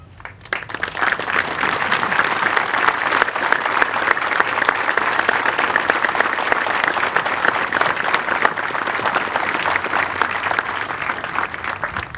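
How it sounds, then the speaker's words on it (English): A large crowd at a military basic camp graduation gives standing veterans a sustained round of applause, which swells within the first second and stays loud and even throughout. "could you please stand so that we may honor you all with a round of applause?"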